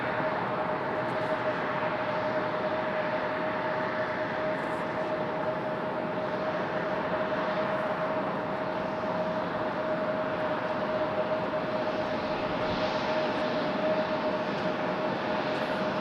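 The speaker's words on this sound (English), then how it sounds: "So here comes our CRJ from JFK." A CRJ regional jet arriving at Raleigh-Durham International Airport produces a steady, loud broadband jet-engine roar with a constant whining tone, unchanging in level from start to finish and heard alone without talk.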